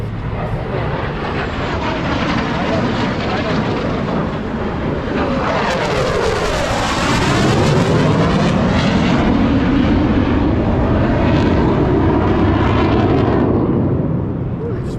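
Loud supersonic jet aircraft roaring overhead, a continuous rushing, rumbling engine blast that sweeps past with a sharp Doppler shift in pitch midway and stays powerful to the end.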